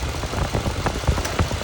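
Toyota 4Runner engine idling with the air conditioning running after a compressor repair, a close, steady rumble with faint irregular knocking pulses.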